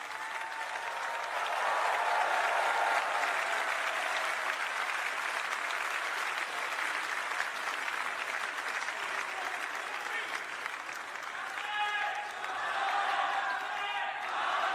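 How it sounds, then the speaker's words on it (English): Sustained crowd applause for a dance performance by a finalist at a public event ahead of Prime Minister Narendra Modi's appearance in Ahmedabad, Gujarat, steady and dense throughout, swelling slightly early and again near the end. "So ladies and gentlemen, please give them a big round of applause."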